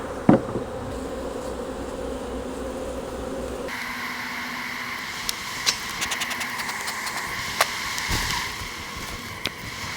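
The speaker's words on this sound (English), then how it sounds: "Those frames I took out are covered with bees back behind me." A steady buzzing drone of many honey bees around an open hive fills the air, with occasional louder bees passing close by.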